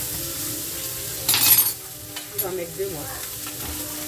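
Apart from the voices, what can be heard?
onion caramelizing and sizzling in a pan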